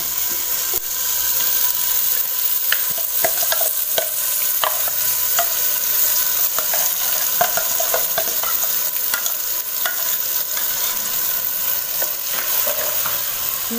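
Masala paste fries in oil for a Tulu-style South Indian mackerel fish curry, giving a steady, close sizzle with scattered stirring scrapes and pops throughout, and no talking.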